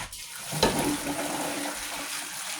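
Leftover chicken broth sludge being poured out of a cooking pot: a short, close splashing gush of liquid that runs steadily for about two seconds.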